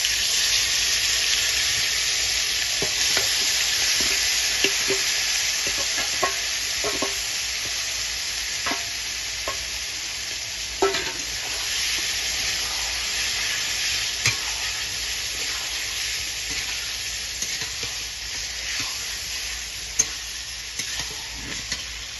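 Marinated chicken with bay leaves frying in hot oil, a continuous loud hiss and sizzle with scattered spatters and occasional stirring knocks, no voices.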